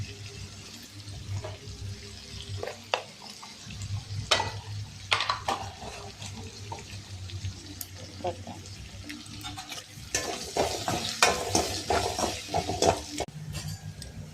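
Fennel seeds and cinnamon frying with onion in a pan: a low sizzle runs under irregular scrapes and clinks of a spoon against the pan, with a busier, louder stretch of stirring near the end.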